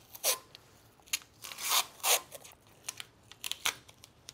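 Masking tape crackles and rips in short, sharp bursts as it is wrapped tightly around a Kel-Tec Sub 2000 Gen 2 muzzle brake, close up with quiet pauses between pulls.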